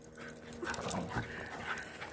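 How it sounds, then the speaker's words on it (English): Several dogs running zoomies together make quick, faint yips and whimpers over a rough, scrambling background, with a continuous busy texture throughout. "Zoomies! It's my favorite. Get him! Even Pedro's in on it!"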